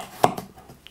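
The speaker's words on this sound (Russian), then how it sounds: "Морковь режу не очень крупными кусочками" A kitchen knife cuts carrots into small triangular pieces on a board, giving one sharp, close chop followed by a softer knock and light scraping, with no voices.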